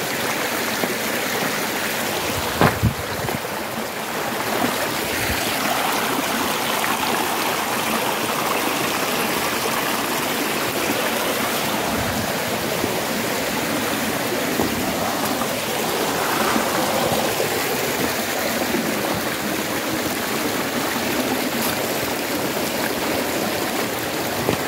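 A stream flows steadily nearby, a continuous broadband rush of running water that stays even throughout, with a few faint knocks and rustles over it.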